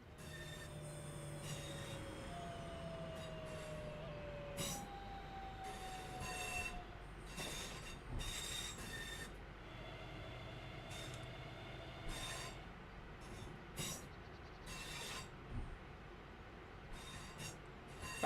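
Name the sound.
train braking to a stop in Train Sim World 5 video game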